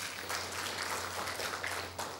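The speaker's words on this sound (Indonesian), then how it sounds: "Boleh tepuk tangan buat Tuhan." Church congregation claps for God during a sermon, a soft, fairly distant patter of many hands sustained through the brief moment, with a low hum beneath.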